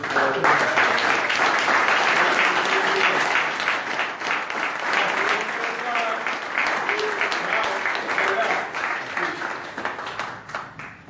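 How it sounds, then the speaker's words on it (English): Audience applause at the end of a live talk show: sustained, dense clapping from a crowd that holds steady for several seconds and then gradually thins, with some voices beneath. "I want y'all, as we end the show, to give them a warm applause."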